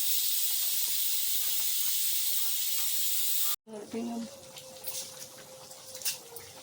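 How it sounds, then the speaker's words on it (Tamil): A steady hiss of cumin water boiling for biryani fills the first half, then cuts off abruptly, followed by quieter clinks and faint kitchen sounds. "இங்கே பாருங்க சீரக தண்ணி கொதிக்குது."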